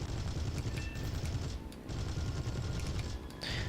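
Four Hispano cannons firing from a P-36 fighter in War Thunder, with continuous rumbling, rattling bursts over engine drone and a short lull midway.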